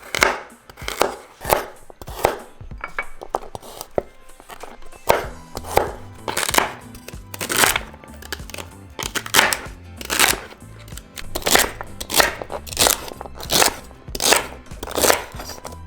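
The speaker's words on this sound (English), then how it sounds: "We're just going to cut them in bite sizes." A knife chops carrots into bite-size pieces on a board, with steady, evenly spaced close thuds repeating roughly every second or faster throughout.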